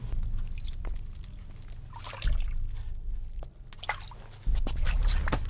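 Watery dripping and trickling sounds with a few squishy splashes over a low background hum, fairly close and irregular, in the video game Metal Gear Solid V.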